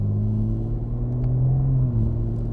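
A 700 HP BMW G80 M3 Competition pulls hard in gear, its engine a loud, steady low rumble with a rising drone held throughout from inside the car, no voices.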